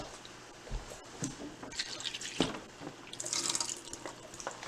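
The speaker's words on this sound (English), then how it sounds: "I always like to rinse them off again." Carrots rinsed under running tap water in a sink, an uneven splashing flow with drips and small knocks, fairly quiet and close, no talking.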